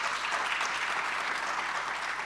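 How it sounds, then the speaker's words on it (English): An audience at a university postgraduate open day claps for its speakers, a dense, steady wash of applause from a roomful of people that holds evenly throughout. "Can we get a round of applause for all of our speakers here today?"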